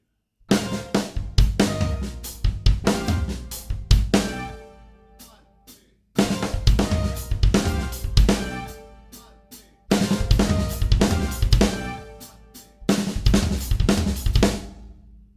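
A drum kit plays a fill with left-leading sticking, kicks and floor tom, the right hand moving between floor tom and a stacked or X-hat cymbal. Three loud, busy bursts are separated by short gaps.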